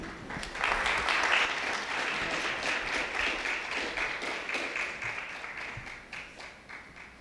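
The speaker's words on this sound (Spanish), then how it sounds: "les voy a pedir un fuerte aplauso para nuestros compañeros" Strong applause from an audience at an expert panel event, sustained clapping for colleagues that swells early and stays loud and steady before gradually thinning toward the end.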